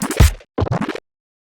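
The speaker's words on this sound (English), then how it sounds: "sparkly, sprinkly hi-hat" Sparkly hi-hat sample in an experimental trap beat made in Cubase, a quick cluster of bright, scratchy ticks in two short bursts with a gap between, loud and alone, then silence.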